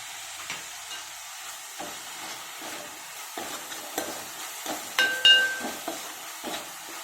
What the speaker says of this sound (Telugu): ఇది కూడా బాగా ఫ్రై అవ్వాలి